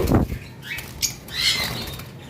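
Ten caged birds squawk harshly and wings flap in a brief flurry, a few loud calls close by with rustling movement.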